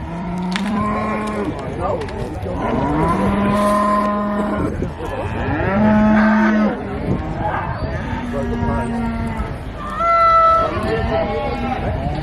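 Cattle low repeatedly in the livestock judging ring at an agricultural show, with several drawn-out moos rising over a busy crowd and a commentator's voice throughout.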